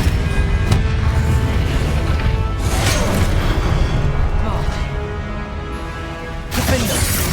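Spell effects from Hogwarts Legacy combat, with a dense, continuous rumble of booms, whooshes and crackling magical bursts that stays loud throughout, plus a sharp fresh burst near the end.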